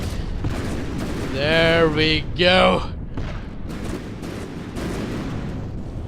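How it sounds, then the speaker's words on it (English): Burst-fire cannons shoot shells in the video game From the Depths, a dense rattle of rapid shots and booms that runs steadily through the clip while someone speaks briefly over it. "the cannons are burst fire cannons. They shoot a lot of shells and then just stop for a while"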